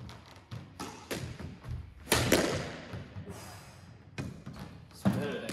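Squash trick shot on a court: sharp ball strikes off racket and wall ring out as several separate thuds, with a louder hit near the middle and another at the end, over faint room noise.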